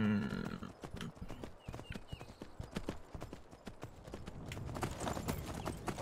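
Horse hooves clip-clop in a quick, steady rhythm in a Skyrim video game, fairly close and clear, with a faint whinny near the start and no talking.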